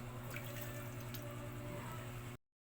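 A small splash of water poured into a saucepan holding a soy-style sauce with pepper, salt and sugar with sesame seeds, a steady soft trickle lasting a couple of seconds before stopping abruptly.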